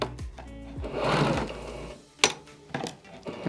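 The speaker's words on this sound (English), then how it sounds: "If you wanted to back stitch, your back stitch button is here. You can see how it moves" A Baby Lock Accomplish sewing machine runs a back stitch in a close, rapid mechanical whir lasting about two seconds, followed by a few sharp clicks and knocks from the machine.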